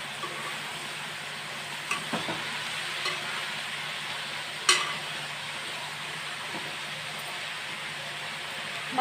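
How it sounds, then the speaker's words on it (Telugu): Broad bean and onion pieces fry in a pan while being stirred, a soft steady sizzle with occasional scraping clicks and one sharp knock midway, heard close with no talking. "మధ్యలో అయితే ఇలా కలుపుకుంటూ ఉంటే అడుగు అంటకుండా ఉంటుంది."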